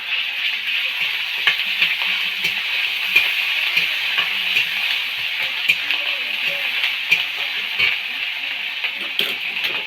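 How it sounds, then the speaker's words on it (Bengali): Chopped onion sizzles steadily in a pan of oil, with repeated scraping and tapping as a spoon stirs it throughout, close and fairly loud. "পেঁয়াজ কুচিটা কিছুক্ষণ নাড়াচাড়া করার পরে আমি পেঁয়াজ বাটাটাও এর মধ্যে দিয়ে দেবো"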